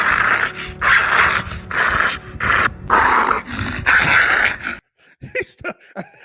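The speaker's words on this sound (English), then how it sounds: "You go, little bulldog." A French bulldog growls in long, rumbling bursts with short pauses, then breaks into a few high whimpers and yips, close and loud.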